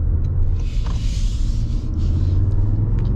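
Steady low road rumble and engine hum from a 2026 Toyota Grand Highlander Platinum Hybrid Max accelerating, heard from inside the cabin with mild tire noise, continuous and fairly loud throughout.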